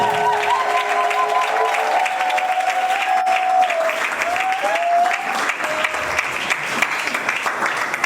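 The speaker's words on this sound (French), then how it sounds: "Je veux que tu acclames encore très fort, parce que Dieu est fidèle" A church congregation at a French-language service applauds and cheers loudly and steadily for about eight seconds, dense clapping filling the room with a sustained tone ringing underneath.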